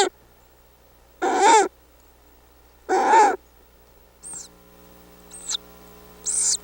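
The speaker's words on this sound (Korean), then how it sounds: "절집 처마 위에서 사냥감을 노리는 올빼미." A breeding-season owl perched on the eaves of a temple building gives two drawn-out calls spaced well apart, followed by a few short, high squeaks over a steady low electrical hum.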